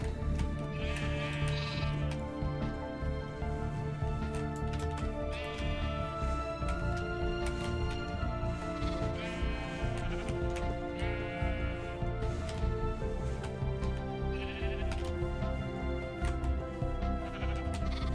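Sheep in a Minecraft survival world bleat several times in short, nasal calls over a steady background of music, spaced irregularly across the stretch with some calls overlapping.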